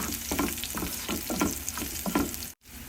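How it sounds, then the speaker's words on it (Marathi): Finely chopped garlic with a green chilli and cumin seeds sizzles in hot oil in a pan, with rhythmic stirring strokes over a constant frying hiss and a brief dropout near the end. "एक हिरवी मिरची चार पाच लसणाच्या पाकळ्या बारीक चिरलेल्या आपण लसूण छानपैकी परतून घेऊया"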